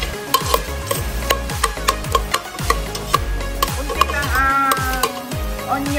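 Onions sizzling and being stirred in a hot pan for Filipino misua soup, a steady frying hiss broken by repeated rhythmic scrapes and clanks of the utensil, close and loud, with no talk.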